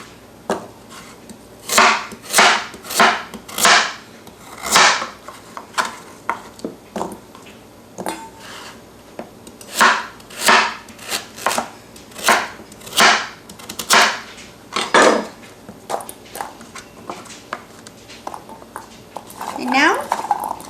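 A knife striking a cutting board while carrots are sliced into even pieces, sounding as a series of loud, close, irregular chops that come in bursts with short pauses between them.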